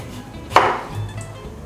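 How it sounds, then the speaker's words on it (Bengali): A knife slices through peeled potatoes being cut into pieces for French fries, giving one crisp, close chop over a low, steady background hum. "আলুগুলো ছুলে নিয়েছি, এখন এগুলো আমি কেটে নিচ্ছি।"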